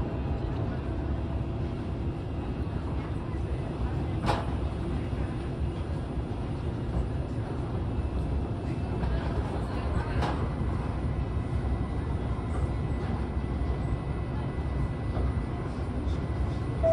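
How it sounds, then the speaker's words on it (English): Steady low rumble inside a Linimo maglev train riding between Yakusa and Fujigaoka, constant and even, with a couple of faint clicks and a quiet announcement tone. "This is the local train bound for Fujigaoka."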